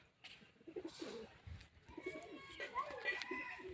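Pigeons cooing in coop cells, soft low repeated coos close by, mixed with faint chirps and quiet background voices.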